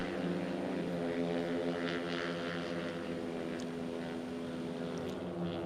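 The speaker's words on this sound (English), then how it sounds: "That's Prakash Kamath, Vivek Gaurav and Rakshit on bike number 8" Honda one-make novice racing motorcycles on a race track, a continuous dense drone of several engines blending together at a distance, steady and unbroken with no clear pass-by.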